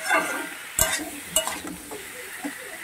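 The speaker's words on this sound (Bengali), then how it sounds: "মশলাগুলোর সঙ্গে আলু আর ফুলকপিকে নেড়ে দিয়ে কষিয়ে নেব।" Potato and cauliflower stir-fried with spices in a pan: a quiet sizzle under a few sharp scrapes and knocks of a spatula, spaced unevenly over a couple of seconds.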